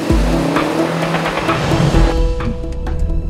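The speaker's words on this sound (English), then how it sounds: "I really think the super turbo can take Nathan's turbo turbo" A 2014 BMW X5 and a Volvo XC60 launching in a drag race, engines roaring loudly up close with a brief tire squeal at the start, then a sustained rising drone.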